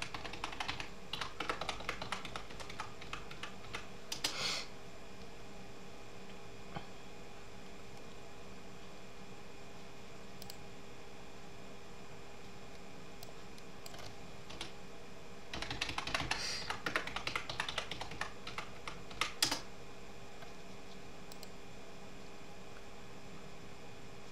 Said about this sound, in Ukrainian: І пишемо пароль, який вказували при реєстрації.